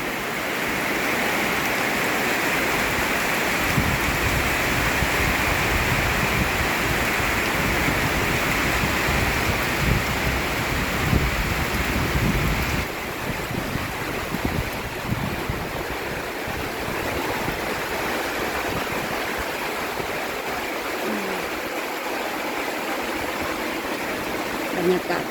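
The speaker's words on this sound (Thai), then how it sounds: "บรรยากาศตอนฝนตกน้ำแรง" Heavy rain pours down steadily, a dense continuous hiss of falling water and runoff at a rural home, with a speaking voice underneath.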